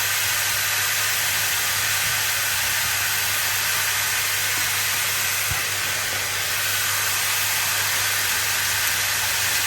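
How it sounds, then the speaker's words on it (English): Mushrooms cooking down in a pan for a pork tenderloin stroganoff give off a constant, dense hiss, loud and close, without pauses or voices. "And we're going to cook down these mushrooms"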